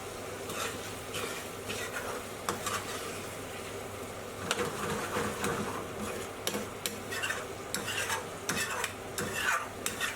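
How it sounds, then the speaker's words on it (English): A spoon scrapes repeatedly around the edges of a pan of chicken Madras curry sauce made with Patak's Madras paste and a little sugar, giving scratchy strokes over a steady low sizzle, close and continuous with no talking. "It may seem like a lot of scraping, but all the good stuff is around the edges of the pan, so scraping it back in all the time is an essential technique"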